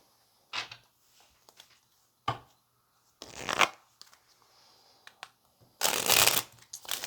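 Tarot cards are shuffled by hand in several separate bursts of riffling and sliding, close and crisp, with quiet gaps between.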